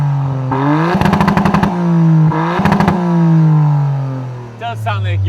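A Toyota GR Yaris with an aftermarket exhaust is revved hard twice up close, each blip rising into a loud, crackling rasp before falling back to a steady idle drone, with a brief voice near the end.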